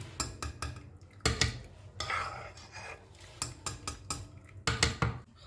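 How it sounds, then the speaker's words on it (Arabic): Boiled pasta is scooped and dropped into a blender jug, giving a series of close, sharp clinks and scrapes of utensil on the jug with soft wet thuds in an irregular rhythm, and no voices. "خلاص كده حطيت المكرونه في الشفشق بتاع الخلاط"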